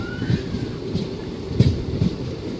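Thar Express passenger train on the desert line running steadily, with a low rumble and soft periodic clacks of wheels over rail joints, heard from on board at moderate level.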